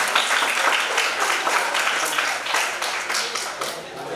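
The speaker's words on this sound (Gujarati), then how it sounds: "જોરદાર તાળીઓથી આપણે અભિવાદન રાખીશું." An audience at a student honour ceremony in Junagadh applauds, a dense continuous wash of many hands clapping at close range, steady for several seconds and fading slightly at the end.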